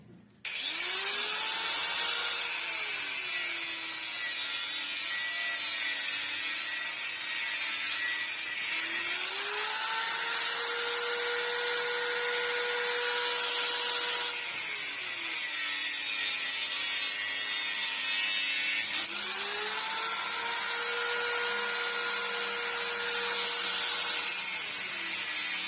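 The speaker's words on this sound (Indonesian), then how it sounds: "Potong besi dulu guys." Power cutter slicing through a 10 mm steel reinforcing bar: a loud sustained whine that rises and falls in pitch over three long cutting passes, harsh and continuous with no talking.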